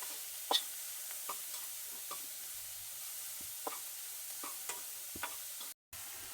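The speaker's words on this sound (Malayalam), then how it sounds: "ഒന്ന് ഇളക്കി കൊടുക്കാം." Food is stirred in a frying pan, with a faint continuous sizzle under scattered light taps and scrapes of a utensil, then a brief dropout.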